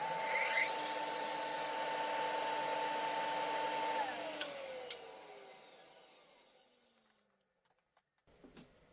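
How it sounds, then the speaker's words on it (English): Table saw running with its blade set close to the fence to rip thin 2 mm wooden labels: a loud steady whine through the cut, then the motor spins down and fades, followed by a few light clicks. "Now with the blade set 2 millimeters away from the fence, I should be able to cut labels that are 2 millimeters thick."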